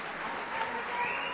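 At a boxing fight night, a crowd claps and cheers in a dense, steady burst of applause, with an arena announcer's voice audible over it.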